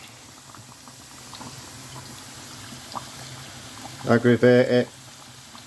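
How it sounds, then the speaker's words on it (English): Fishcakes fry in fizzing hot oil in a small pan, a steady close sizzle running under the whole stretch, while someone speaks briefly near the end. "make sure it's fizzing, and then drop it in slow"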